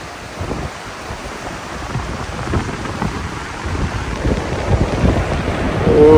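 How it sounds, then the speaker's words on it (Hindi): Fast, heavy flow of a mountain river surrounded by hills, heard as a steady, loud broadband roar that swells toward the end, with wind buffeting the microphone throughout. "इतना पानी का फ्लो इतना तेज़ और चारों तरफ पहाड़"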